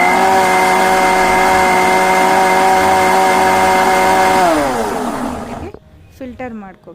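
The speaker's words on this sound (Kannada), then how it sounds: "ನೀಟಾಗಿ ಇದನ್ನು ಬ್ಲೆಂಡ್ ಮಾಡ್ಕೊಳ್ಳೋಣ." A kitchen blender whirs loudly and steadily, blending cucumber with lemon juice and chilled water, then winds down to a stop near the end, followed by a brief clatter.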